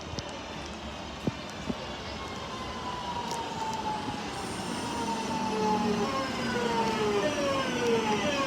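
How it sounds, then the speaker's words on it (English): A train rolls through Bournville station with a long, rising rumble, wheels squealing in drawn-out tones and a few sharp clicks early on, building steadily louder as it passes close by. "There's a passing train right now"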